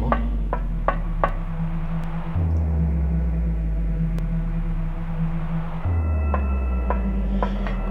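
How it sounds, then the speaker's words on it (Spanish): In the Silent Hill video game, a heavily distorted bass gives a deep, rumbling drone with low humming layers and scattered knocks, shifting in pitch a few times across the passage. "Ese es el sonido de un bajo literalmente distorsionándose hasta el abismo."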